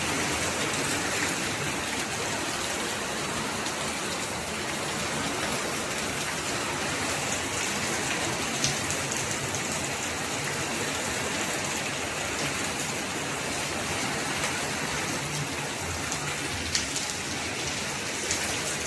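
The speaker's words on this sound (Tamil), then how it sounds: "திண்டுக்கல் சைடு நல்ல மழை பெய்யுது" Heavy rain falling steadily in Dindigul, a dense, even wash of drops hitting surfaces with no break, close and loud throughout.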